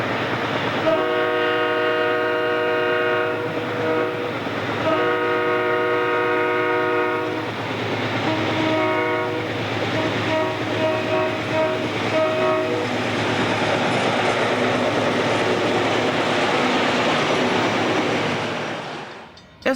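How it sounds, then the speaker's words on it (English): A Burlington Northern coal train led by six-axle locomotives climbs Goreville Hill. Loud repeated horn blasts sound over a heavy, continuous rumble of engines and rolling cars, which fades away at the end. "Powder River coal was the bread and butter of traffic on the Burlington Northern, with sets of 6-axle power leading trains up the hill."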